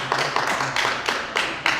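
A small audience at a book event claps in a loose, uneven rhythm, about half a dozen sharp bursts of hands, fairly close and moderately loud.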